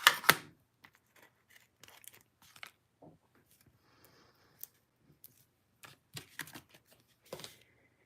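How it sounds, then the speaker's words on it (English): Small scissors snip a tiny piece of paper for a handmade Valentine's card, giving sparse, quiet clicks and crisp cuts close by on a tabletop, with no talking. "I will just use my scissors to cut a little tiny piece on the edge"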